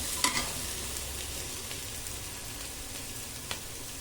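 Coconut, cumin and green chili fry in oil for mango chitranna, making a soft, even hiss with a few faint pops and scrapes.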